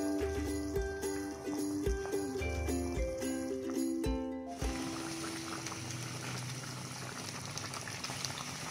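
Chicken curry simmers with coconut oil in a pot, bubbling and gurgling steadily near the mic while a tonal musical hum plays early and then cuts away, leaving the soft bubbling alone.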